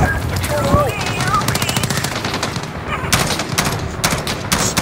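Rapid machine-gun nest fire in the Modern Warfare campaign, a dense, continuous stream of sharp shots with a few louder bursts, heard close and steady alongside some voice-like sounds.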